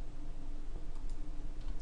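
A computer mouse clicks faintly once or twice while someone configures Group Policy settings on a PC, with the clicks set against a steady low background hum and no one talking.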